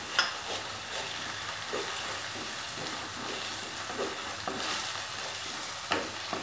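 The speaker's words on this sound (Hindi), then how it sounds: "लगभग 1 मिनट तक मसालों को हमने तेल में भुना है" Spices and onions fry in oil with a continuous crackling sizzle, while a spoon stirs through the pan in periodic soft scrapes and knocks.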